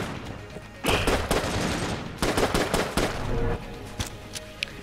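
Rapid bursts of gunfire from the video game Enter the Gungeon, loud dense volleys in two long stretches with scattered single shots between, mixed with game effects and no talking.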